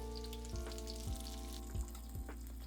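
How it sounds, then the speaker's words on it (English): Aji fish deep frying in hot oil over high heat, a steady close sizzle with a few soft thumps or bumps from the pan, no talking. "I add aji to the oil."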